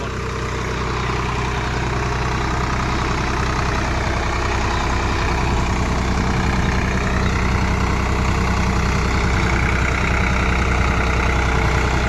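A Swaraj 855 FE tractor pulling a 5-tyne cultivator drones steadily under load, a loud continuous low diesel rumble with a constant beat that holds without a break, with no talking over it.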